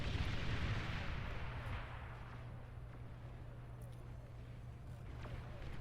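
Hailstorm bombers' bombs exploding in the Beyond All Reason strategy game, heard as a dense rumbling wash of blasts that swells loudest at the start and then settles into a steady low roar with a droning hum underneath.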